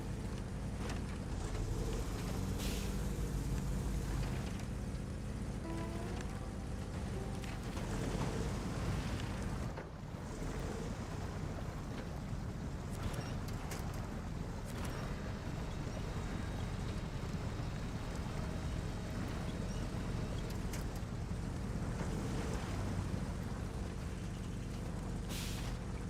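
Heavy truck engine in SnowRunner, Don Region, droning loud and continuous with rising and falling revs and gear shifts, a brief dip near the middle, no talk over it.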